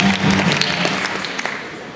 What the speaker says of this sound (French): le voilà, applaudissez-le bien fort.